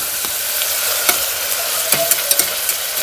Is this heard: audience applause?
no